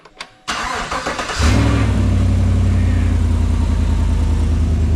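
A Chevrolet Tahoe V8 with an open exhaust crossover cranks briefly, catches and fires up loud and close, then settles into a steady, rumbling idle for several seconds.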